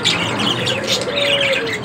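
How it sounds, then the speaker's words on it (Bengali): A pair of White King fancy pigeons, male and female, calling with soft chirps and coos close by, steady and continuous over a low background hum. "এইখানে দেখতে পাচ্ছেন এক জোড়া হোয়াইট কিং, এই যে এটি হচ্ছে নর, এই হচ্ছে মাদি"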